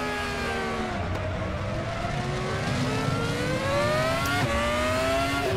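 A Formula X-17 open-wheel race car in the RaceRoom racing game, its engine whining steadily with pitch sliding down through repeated downshifts and brief gear-change blips, loud and close with no talk.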